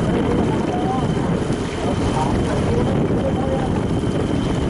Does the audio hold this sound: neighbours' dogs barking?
no